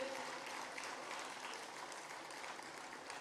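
A crowd gives warm applause at a festival event, a dense, even patter of clapping held at a steady moderate level throughout, heard from some distance.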